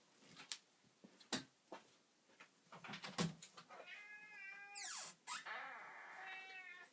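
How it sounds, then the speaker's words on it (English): A cat meows repeatedly up close, drawn-out whiny calls, mixed with scattered clicks and rustling handling noises. "excuse the noise, that's my kitty."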